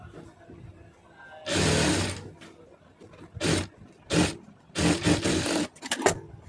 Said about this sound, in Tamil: அந்த 1 இன்ச்சு அளவுக்கு வச்சு தையல் போட்டுருங்க